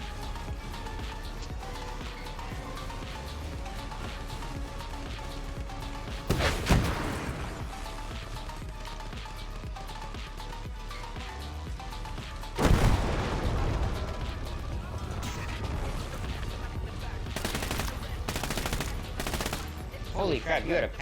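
Bursts of gunfire and heavy explosions crackle and boom at the close of a mission in the Call to Arms: Gates of Hell co-op game, with loud blasts recurring amid continuous battle noise and some talk.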